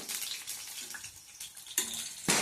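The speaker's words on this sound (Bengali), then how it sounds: "পেঁয়াজ কুচিগুলোকে আমি গোল্ডেন ব্রাউন করে ভেজে নেব।" Chopped onions frying in oil in a wok, a soft crackling hiss running throughout with a couple of louder sputtering bursts near the end, close and steady with no voices.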